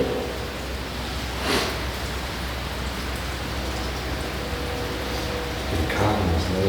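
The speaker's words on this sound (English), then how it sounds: "listen to the rain" Rain falling outside Pennhurst's Devon Hall, an abandoned building, heard from indoors as a constant soft hiss with a couple of brief rustling swells along the way.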